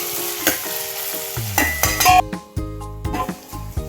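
Tomatoes and onions frying in a pan for chicken kurma, stirred with a utensil that clinks and scrapes against the metal in irregular bursts over a steady sizzle, close and fairly loud.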